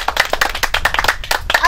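Close, brisk hand clapping by a few people at a casual street cricket match, a quick run of sharp claps.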